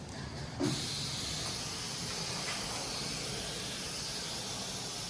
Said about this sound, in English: I'm on a mist setting. So I'm really just gonna mist it